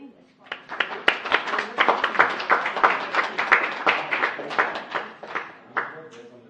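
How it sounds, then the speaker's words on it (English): A round of applause for a city department at a council meeting: many hands clapping steadily for about five seconds in a room, loud and dense, then tapering off. "Our department, a round of applause for doing this for us."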